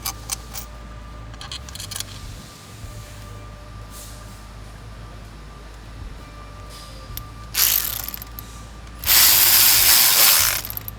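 A hand ratchet snugging water pump bolts on a 2013 Volkswagen Beetle: quiet clicking pawl strokes early on, then two louder, sustained bursts of fast ratcheting near the end.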